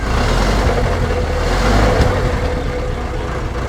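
A classic car's engine is revved with the throttle at a diner car meet, a loud, steady rumble that swells slightly around the middle and holds up close throughout, with no talk over it.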